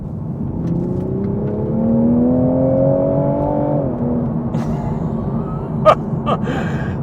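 A 2020 Toyota Supra's straight-six engine in Sport mode revs steadily, its pitch climbing for several seconds before easing back, followed by a few sharp pops and crackles.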